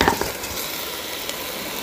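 Iraqi-style qeema: meat and onions fry in a pan with a steady, moderate sizzle, a couple of quick stirring scrapes at the start, then an even hiss.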